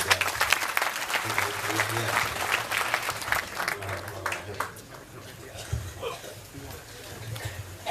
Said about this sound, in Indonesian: tepuk tangan semua untuk Ustaz